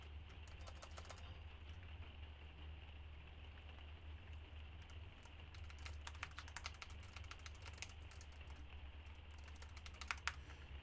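Quiet typing on a computer keyboard, bursts of rapid light key clicks with short pauses between them over a low steady hum.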